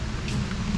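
Steady rain hisses during the rainy season in El Nido, Philippines, with a low rumble that fits distant thunder running underneath, continuous and moderately loud for a brief moment with no voices.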